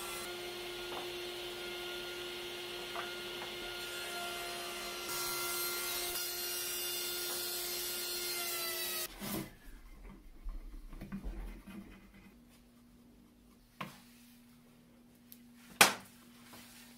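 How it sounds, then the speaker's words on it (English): A table saw trims a thin strip off a wood workpiece's edges in a home shop, starting with a steady whining motor hum and a rough cutting hiss, then spinning down, followed by scattered knocks and handling thumps. "I'm going to trim off like an eighth of an inch of the table saw."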